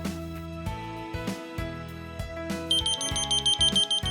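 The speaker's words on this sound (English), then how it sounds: "If you hear an ear-piercing alarm coming from a patient's room" A shrill electronic hospital patient bed alarm beeps in rapid pulses, entering partway through over steady background music and growing loud and insistent.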